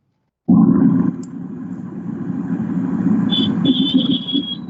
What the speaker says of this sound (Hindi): आपके वहां क्या ट्रैफिक का साउंड बहुत ज्यादा है जिसकी वजह से बाकी लोगों की आवाज नहीं आ पा रही है?